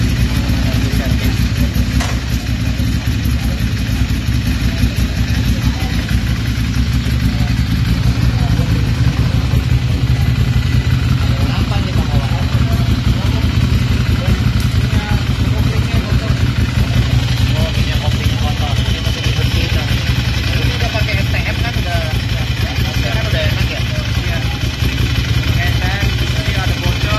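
A Ducati Monster 795 motorcycle engine runs steadily at a repair shop, a loud continuous rumble with mechanical clatter lasting throughout, while someone speaks over it.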